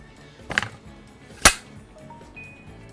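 A Murasama replica sword drawn from its sheath, heard as two sharp scraping clacks about a second apart, close and loud against a quiet room with no talking.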